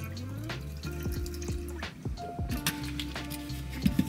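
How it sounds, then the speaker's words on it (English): Plant milk pours into a smoothie blender over banana and ice, a soft, close liquid trickle with a few drips and splashes, faint and brief, with light kitchen clatter around it. "I'm gonna add in some plant milk"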